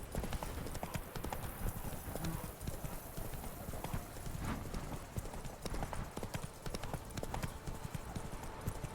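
Roach, a horse in The Witcher 3, walks with a steady clip-clop of hooves, close and continuous, layered over ambient game sound with no talk.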